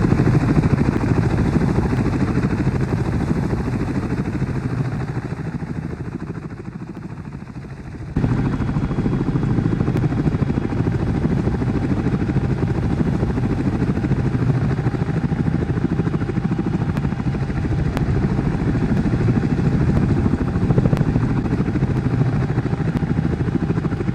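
A CH-47 Chinook helicopter climbs out after an intersection departure from runway 29 at NAS North Island, heard as a loud, steady, broadband rotor and engine roar from inside the aircraft, with a brief dip before it resumes.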